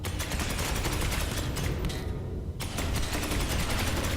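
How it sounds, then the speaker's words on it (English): Sustained rapid gunfire in the Space Hulk Ascension video game, a dense continuous fusillade that drops out briefly midway before resuming, loud and steady with no talk. "Now we're firing down here."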